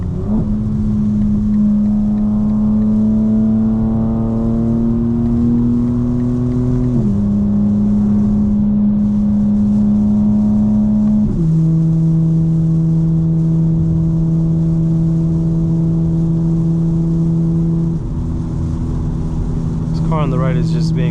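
A 2025 BMW M4 Competition xDrive drives in pouring rain, its engine a steady loud drone that steps up in pitch through several gear changes, with a constant wash of road and rain noise underneath.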